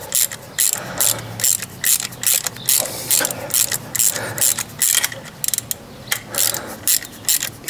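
A ratchet tightens spark plugs on the 310 PS EA888 Evo 4 engine of a Cupra Formentor, giving rapid bursts of close, loud clicking in short repeated strokes while a voice talks faintly in the background.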